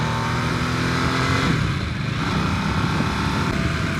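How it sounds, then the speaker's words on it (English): A 2022 Harley-Davidson Nightster motorcycle engine runs with a loud, continuous rumbling growl that swells briefly as the throttle is opened, heard up close with no talking. "I thought this isn't like the typical Harley sound that I think of at all."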